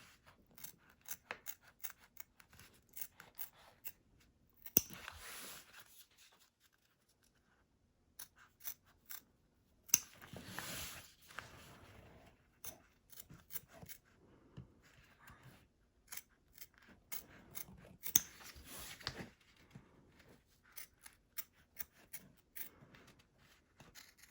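Scissors snip through fabric appliqué along a zigzag line in a quiet sewing setting, a long run of close, crisp cuts in irregular bursts with brief pauses, no talking.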